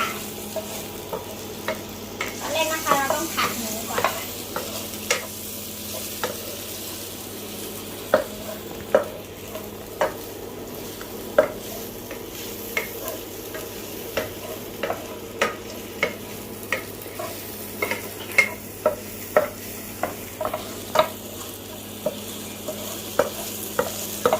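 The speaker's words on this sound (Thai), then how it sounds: "อ่ะตอนนี้เราก็จะมาทำผัดหมูใส่ไส้กรอกชีสกันเลยค่ะ" Pork and cheese sausages stir-fried in a pan, with a steady close sizzle of frying and repeated sharp scrapes and taps of a spatula stirring through the pan at an irregular pace, no talking.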